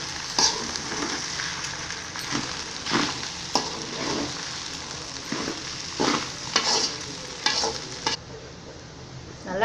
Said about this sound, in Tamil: இப்போ கிளறி விடுங்க